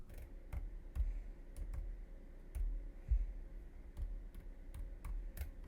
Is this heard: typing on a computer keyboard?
yes